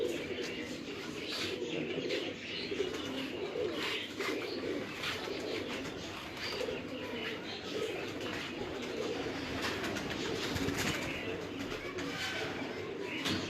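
Pigeons coo steadily on an Islamabad rooftop loft, including large khaki hens kept uncrossed for about ten years; a dense, continuous layer of overlapping coos with scattered chirps runs throughout, close and moderately loud.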